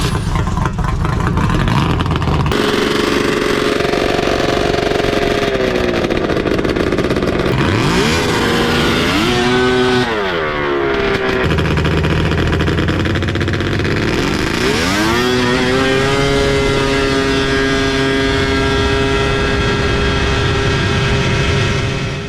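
A 600cc Banshee quad engine revs loudly and close by, holding a raspy drone with repeated rising and falling sweeps as the throttle is blipped and released.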